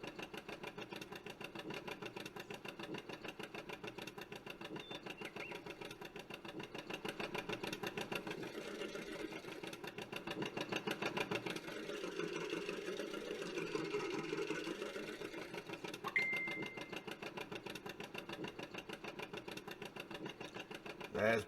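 An old John Deere tractor engine idles with a steady, rapid mechanical chugging that runs evenly throughout, fairly quiet and heard from a moderate distance.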